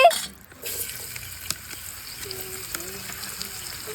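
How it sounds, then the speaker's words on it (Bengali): Chopped onion and chili hit leftover fish-frying oil, giving a soft, steady sizzle after an initial louder splash, fairly quiet and close with faint background clinks. "মাছ ভাজার তেলে দিয়ে দিচ্ছি পেঁয়াজ কুচি ও মরিচ কুচি"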